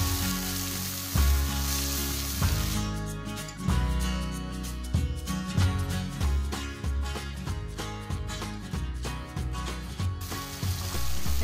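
Tomatoes sautéing with fresh oregano in a hot pan give a steady, dense sizzle and crackle close up, with clinks and scrapes of a spoon through it and no talking.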